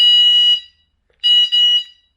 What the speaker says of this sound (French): ça fait juste un bip assez fort